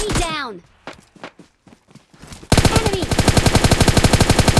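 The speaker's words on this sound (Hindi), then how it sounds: "तभी एक बाहर से गन फायर के साउंड आए" PUBG Mobile Lite gunfire: a few scattered single shots and thumps first, then a loud, close, sustained automatic burst of rapid, evenly spaced shots that keeps going to the end.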